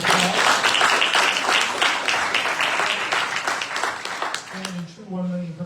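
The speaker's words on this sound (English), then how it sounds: "Let's give another round of applause." An audience gives a round of applause after a presentation at a 1 Million Cups event: dense, sustained clapping that gradually thins, with a voice speaking as it fades at the end.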